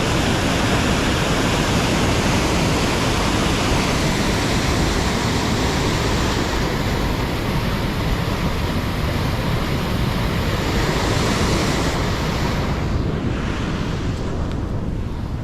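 Water rushes over Top Cliff Weir on a river running unusually low, a dense, steady roar that fills the whole stretch at close range, broken by wind buffeting near the end.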